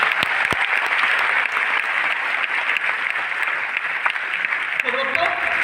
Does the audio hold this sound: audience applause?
yes